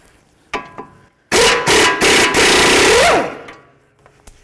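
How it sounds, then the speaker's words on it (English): Loud buzzing power-tool bursts, likely an impact gun, spin off a tie rod nut with a 19mm socket on a 2007-13 Nissan Altima's front steering, with a short ratcheting whine near the end and a few light clicks before and after. "We're going to remove this nut using a 19mm."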